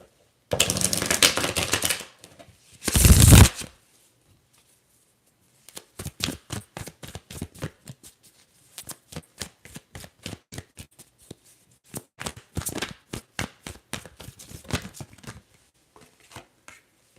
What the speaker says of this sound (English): I'm going to start and shuffle the cards.